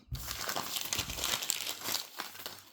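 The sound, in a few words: QSSP Penguin pocket knife cutting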